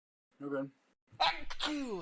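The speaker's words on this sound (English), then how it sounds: "I have to sneeze really quick" A single sharp sneeze after a short vocal intake, close and fairly loud, with brief speech around it.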